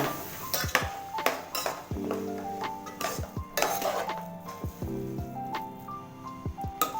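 A metal spoon stirs cooked rice into a curry leaf masala in a pan, making repeated close scrapes and clinks with bright ringing metallic pings, no voices.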